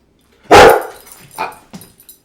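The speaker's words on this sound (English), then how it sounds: "The dog's barking." A dog gives one loud sharp bark up close, followed by two or three softer, shorter yips or whimpers trailing off.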